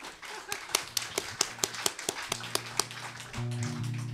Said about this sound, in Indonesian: Tolong tepuk tangan yang keras ini.